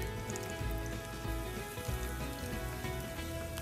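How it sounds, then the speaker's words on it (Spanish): Dried chiles frying in oil with onion, bay leaf, pepper and garlic give a steady, close crackling sizzle that runs without pause, with faint tonal sounds beneath. "Y ahorita se van a sofreír aquí con la cebolla, laurel, pimienta y los ajos."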